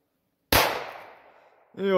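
A firecracker explodes under a Samsung Galaxy S10 phone: one sudden loud bang with a rumbling tail that fades over about a second, then a voice starts.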